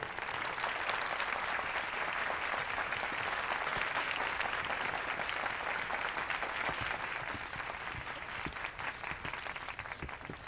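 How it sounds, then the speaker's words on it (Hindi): Applause from an audience greeting a guest of honor at a Hindi event, a thick, sustained roar of many hands clapping, steady throughout and tapering a little toward the end. "तालियां।"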